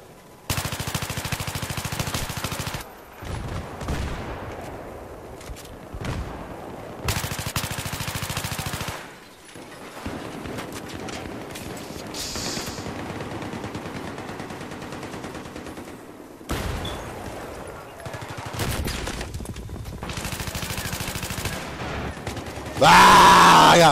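Rapid bursts of automatic gunfire and fusillades from a Battlefield 3 match on the Operation Metro map, loud and close, with repeated volleys separated by short lulls and a harsh blast at the end.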